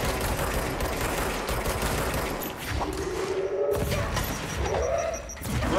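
A grenade blast and bursts of gunfire from the action game Control, with rapid shots and a booming explosion filling the scene loudly, followed by fading debris and a short rising whine near the end.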